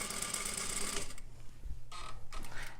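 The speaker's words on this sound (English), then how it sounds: "needle down, backstitch, and then sew." A sewing machine stitches fabric with a backstitch, giving a fast, even mechanical whirr and needle patter that pauses briefly and then resumes in short close-up bursts.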